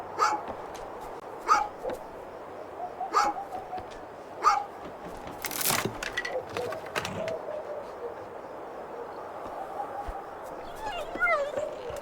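Dog barks in the video game A Juggler's Tale: short, sharp yelps recur at a steady pace over the first few seconds, followed by softer scuffling and faint chirps, with light ambient noise throughout.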